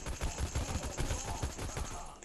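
Rapid gunfire from the mobile shooter Guns of Boom rattles in a continuous, dense burst of shots, loud and steady throughout with no voices.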